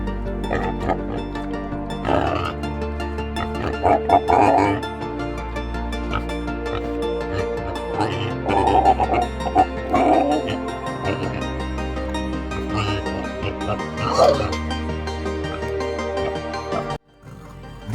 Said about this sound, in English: These are the sounds the Russian wild boar makes.